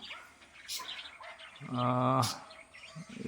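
A small black sparrow-like bird near its nest in a curry leaf plant gives faint, brief chirps, with one clearer short call sequence in the middle of quiet outdoor background.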